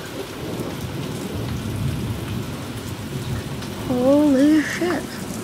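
A thunderstorm pours heavy rain with a dense steady hiss and rolling thunder rumbling in the low end, heard through an open door; a brief warbling bird-like call rises over the rain near the end.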